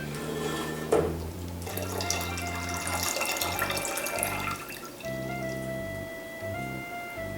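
Lime juice pours from a container into kombucha in a kitchen, a soft liquid splash and trickle that runs for a few seconds before easing off, quiet and close.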